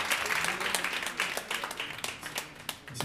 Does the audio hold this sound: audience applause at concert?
yes